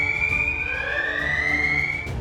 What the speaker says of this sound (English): I could also trigger an alarm warning